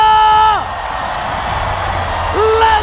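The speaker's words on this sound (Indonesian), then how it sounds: "mana tepuk tangannya?" An esports playoff crowd at a Mobile Legends match cheers and whoops loudly with scattered clapping, a steady roar of voices between drawn-out vocal calls at the start and end.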